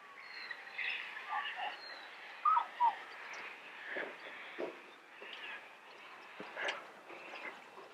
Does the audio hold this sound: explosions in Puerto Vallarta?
no